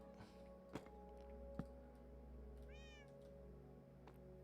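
Cat in the video game Minecraft gives a single short, clear meow over a quiet low hum, with a couple of soft thunks and faint footsteps nearby.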